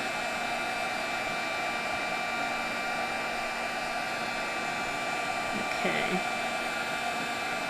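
A heat tool blows a loud, constant whooshing drone while melting embossing powder on a craft card, steady throughout with one brief spoken word near the end.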